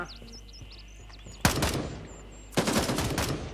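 Automatic rifle fire in Gray Zone Warfare, two loud close bursts of rapid shots, the second longer, breaking a quiet outdoor ambience with distant birds chirping.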